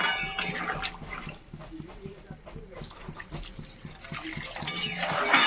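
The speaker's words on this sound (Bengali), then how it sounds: "জ্যান্ত মাছ, তার জন্য একটুখানি ঝোল দেবো, সুন্দর ঝোল হবে জ্যান্ত মাছের।" Broth poured into a pan of fresh tilapia and khoira fish, a steady close watery splash and hiss that swells near the end, with faint clicks underneath.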